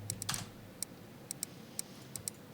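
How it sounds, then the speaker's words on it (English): Short Star Wars R2-D2 droid chirps, pitched down and chopped into a steady rhythmic pattern of quiet, clicky blips separated by brief gaps. "I found this sample of R2 just kind of like chirping."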